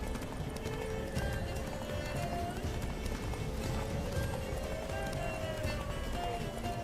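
A horse gallops in the video game The Witcher 3, hooves clip-clopping in a rapid rhythm over a steady backdrop of game ambience and music, moderately quiet.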